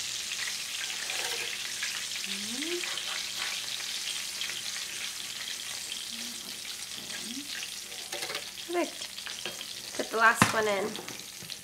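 Gluten-free chicken sizzles and fries steadily in hot oil, a continuous crackling hiss with brief stirring clatters and a sharper clink near the end, while people speak briefly over it.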